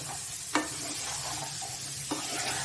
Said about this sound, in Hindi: और एक बार इसको अच्छे से मिक्स कर लेते हैं।